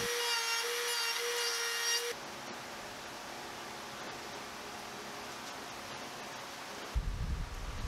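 A router cutting a 3/16-inch round-over along the top edges of a wooden rail, a steady close broadband whine with a tonal hum for about two seconds, then a softer continuous rushing before a low thump near the end.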